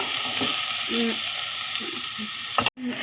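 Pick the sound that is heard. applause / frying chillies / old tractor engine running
frying chillies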